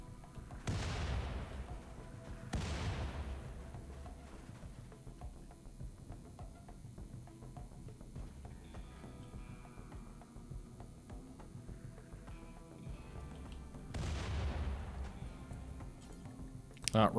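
Mortars fire in the video game Rimworld: several deep, booming launches land at irregular intervals, each with a short low rumble, over a low continuous background and quiet talking.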